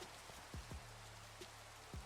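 Rain falls in a Minecraft-style skyblock game, a soft steady hiss with scattered drop taps, faint and continuous with no talk.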